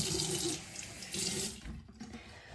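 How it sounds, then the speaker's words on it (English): Tap water running into a sink while skincare product is rinsed off, a soft splashing hiss with uneven bursts and a brief pause, close and faint, no voices. "I'm gonna rinse it off."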